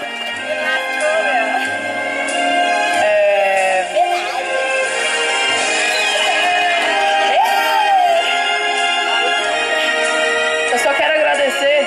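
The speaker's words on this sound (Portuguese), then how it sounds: "Uma salva de palmas, galera!" A party crowd at an evangelical birthday celebration in a house or hall cheers, whoops and shouts loudly and without a break, with music and voices mixed into the dense, lively din.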